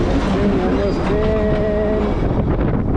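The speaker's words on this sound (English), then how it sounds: "Train is coming. Yes, train is coming." A train passing on the hill railway between Siliguri and Kurseong, a loud continuous rumble of wheels and carriages close by, with a whining tone rising and falling midway.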